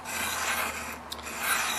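Knife blade drawn along the rods of a Spyderco Sharpmaker, a steady close, faint rasping rub running without pause and no voices.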